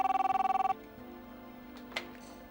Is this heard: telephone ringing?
yes